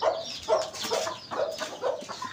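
A rooster wandering about a poultry yard clucks in short repeated bursts, roughly every half second, fairly close and alone with no talk.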